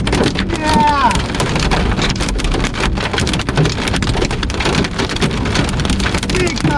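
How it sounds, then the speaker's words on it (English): Large hailstones pound down in an Iowa hailstorm, a loud dense clatter of impacts with sharp cracks scattered throughout, while a person speaks over the din. "Big time hailstorm."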